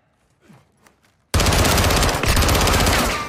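Call of Duty: Modern Warfare 2 campaign gunfire: after a quiet moment with faint sounds, a sudden loud burst of rapid automatic shots hammers on without pause to the end.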